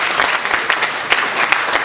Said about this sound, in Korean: 칭찬 박수 한번 보내주시고